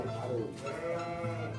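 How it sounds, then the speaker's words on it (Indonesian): A Garut sheep bleats in a drawn-out, wavering call that lasts over a second, close by and fairly loud. "Lagi membahas domba Garut."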